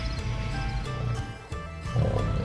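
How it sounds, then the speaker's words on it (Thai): A tiger roars at night from somewhere not far off, a deep rumbling growl rising and falling in a few long heaves, with no voices over it. "คนทั้งสอง ก็ได้ยินเสียงคำรามจากเสือโครงดังอยู่ห่างๆไม่ไกลนะัก"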